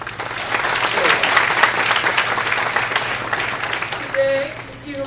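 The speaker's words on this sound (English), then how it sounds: "Could you give him a warm applause?" Warm applause from an audience at a Ministry of Education awards ceremony, steady and dense for several seconds, with a brief voice and tonal sound near the end.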